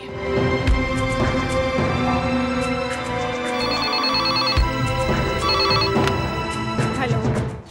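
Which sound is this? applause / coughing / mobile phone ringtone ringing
mobile phone ringtone ringing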